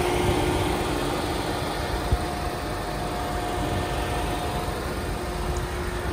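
A 2014 Ford Fiesta idling with its air conditioning running: a steady, even low hum with no speech.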